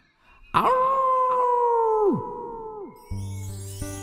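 A voice imitates the big bad wolf's howl: one long, loud, sustained wavering cry that slides down and fades, followed by a brief lower howl and a burst of music.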